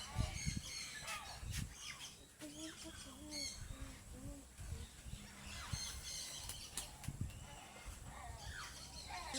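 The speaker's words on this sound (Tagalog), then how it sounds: "Ayan po yung mga ibon. Daming ibon dito sa loob." Several birds calling and cawing inside an enclosed animal area at Biak-na-Bato, San Miguel, Bulacan, with harsh calls and chirps overlapping amid background voices and clatter.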